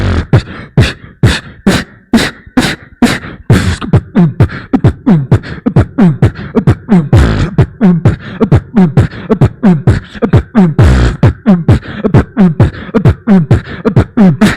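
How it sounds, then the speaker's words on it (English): Techno beat music blasts over speakers at a pub-disco style event, loud and driving with a rapid, steady pulse of punchy hits and stabs running throughout. "we have a different kind of beat called as the techno beat."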